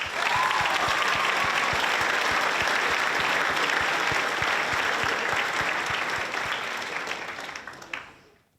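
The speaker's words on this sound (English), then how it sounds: "could we get a massive round of applause for him?" An audience at a school arts evening claps in a loud, sustained round of applause that holds steady for several seconds, then thins out and fades away at the end.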